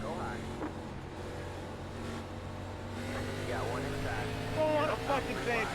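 An ARCA Menards Series stock car engine drones steadily in the iRacing sim at Nashville Fairgrounds, with someone talking over it and the engine note rising and revving toward the end.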